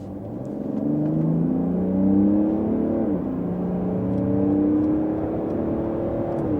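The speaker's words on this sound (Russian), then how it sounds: "переводим настройки в режим спорт и также ускоряемся с 50 км в час" A Mercedes GLE in sport mode accelerating hard from 50 km/h, its engine note climbing steadily, dropping briefly at a gear change, then rising again as a loud, continuous in-cabin drone with no talking.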